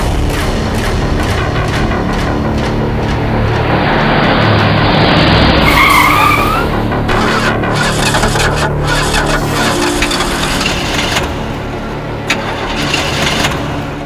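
A car skids with a sustained tyre screech and a straining, revving engine, then sputters and falters as it breaks down in a loud, close, continuous burst.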